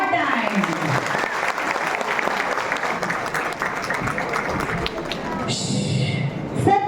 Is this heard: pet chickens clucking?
no